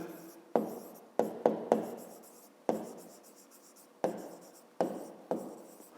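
A pen scratches on paper while a fifth-grade maths exercise is written out, in short bursts of writing strokes separated by brief pauses, close and clear with no talk.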